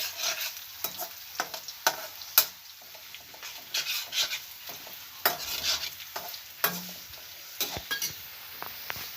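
Tadka for dal fry being stirred in a hot pan: steady sizzling and frying with repeated scraping and clinking of a spoon against the metal pan, close and fairly quiet, no voices.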